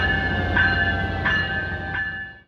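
An Amtrak passenger train rolls past at a station, a steady loud rumble with sustained tonal whine and repeated brief squeals about every 0.7 seconds, fading slightly at the end.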